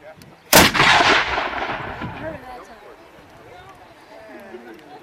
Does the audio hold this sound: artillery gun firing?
yes